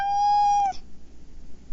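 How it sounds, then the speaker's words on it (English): A single cat meows once, loud and close: a bright, drawn-out tonal call lasting under a second that cuts off sharply, followed by quiet room noise. "Here's an example image of an audio signal of a cat meowing."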